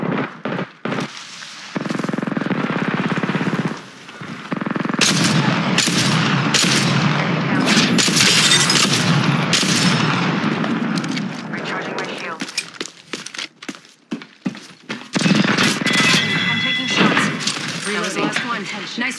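Gunfire in an Apex Legends match, bursts of shots and thuds popping in and out over steady game noise and talk, some near and loud, with brief lulls between exchanges.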